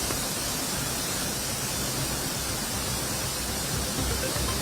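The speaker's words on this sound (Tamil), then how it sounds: "சீரான நிலையில் தண்ணீர் ஆர்ப்பரித்து கொட்டும் காட்சிகளை பார்க்கிறோம்" Water gushes down the Courtallam waterfalls in Tamil Nadu during the season, a dense, constant roar of falling water that fills the whole clip loudly and without a break.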